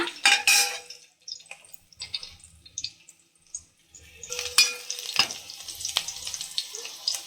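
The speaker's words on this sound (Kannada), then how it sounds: "ಈ ಬೆಳ್ಳುಳ್ಳಿ ಫ್ರೈ ಆಗೋ ಘಮ ಬರುತ್ತಲ್ಲ, ಅಲ್ಲಿವರೆಗೂ ಚೆನ್ನಾಗಿ ಸ್ವಲ್ಪ ಬಾಡಿಸ್ಕೊಳ್ಳೋಣ" Garlic fries in oil in a pan for palak dal, crackling sizzle with scraping and clinks of a utensil stirring against the pan, busy and close throughout.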